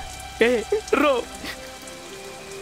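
Steady rain patters continuously in the background while a voice briefly speaks and cries over it.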